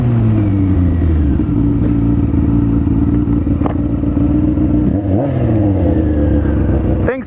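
A Ford Mustang engine roars up close and loud, its deep, throaty note climbing and dropping through several revs before cutting off sharply at the end.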